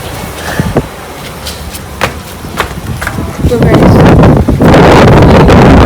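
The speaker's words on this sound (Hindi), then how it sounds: "हवा चल रही है," Gusty outdoor wind on a rainy day buffets and rumbles across the microphone, swelling into a loud, steady roar through the second half, with brief thumps and some voices.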